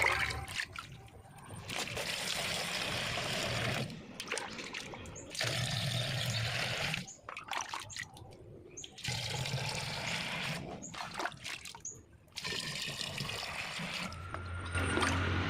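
Trichoderma solution poured into a bottle in repeated splashy gushes, each pour a few seconds long, separated by short gaps, close and fairly loud.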